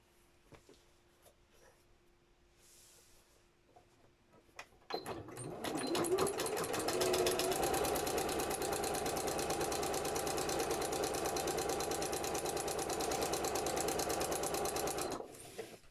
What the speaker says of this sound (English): I just need to sew the lining to this one.